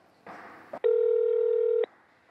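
A short burst of line noise is followed by a single loud, steady telephone tone held for about a second, then the line falls quiet.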